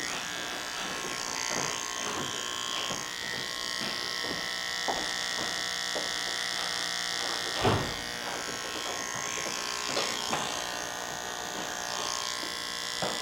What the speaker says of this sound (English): So I'm working with the trimmer backwards.